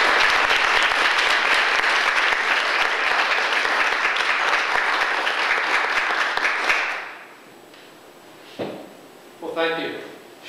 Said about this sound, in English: You should wait to clap till the end